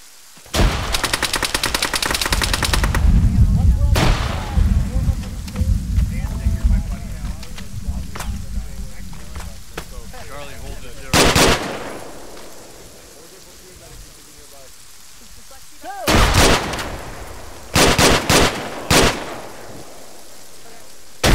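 Gunfire and a grenade blast in the military shooter Arma 3, with sharp broadband bursts of shots, a heavy rumbling explosion early on, and scattered volleys later, loud and close amid ambient noise and occasional voices.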